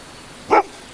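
A single short dog bark sounds close and loud against a quiet outdoor backdrop near a squirrel stronghold in Britain, with no voices.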